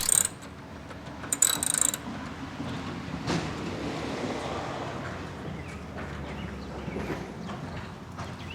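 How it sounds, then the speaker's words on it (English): A ratchet is used to undo the 10mm bolts on the air inlet of a 2003 Toyota Camry 2.4L. It gives quick bursts of clicking, then quieter metallic handling and shuffling, with no talk. "we first need to unbolt our air inlet for our air filter housing assembly"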